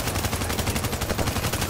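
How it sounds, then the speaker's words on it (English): Submachine gun from The Division video game firing a continuous rapid burst, dense and loud throughout, with no talking. "Jay, I'm using a submachine gun right now."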